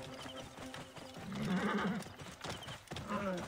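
Horse hooves clip-clop at a gallop in Assassin's Creed Origins, with a whinny rising midway over steady rhythmic footfalls, moderately loud and close, with some game ambience behind.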